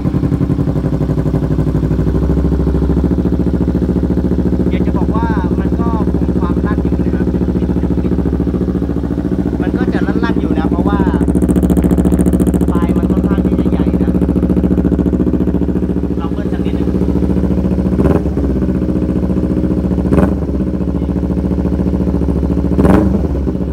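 A motorcycle fitted with an SC exhaust pipe and no catalytic converter idles loudly and steadily, then rises through several sharp revs, with a voice speaking briefly over the engine.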